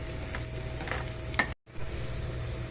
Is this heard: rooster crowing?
no